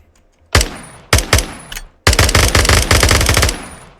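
Rifle gunfire from the Timeless and Classics gun mod in Minecraft, a buffed M4-style weapon: a single loud shot, two quick shots, another, then a sustained rapid automatic burst of about a dozen rounds fading into a short echoing tail.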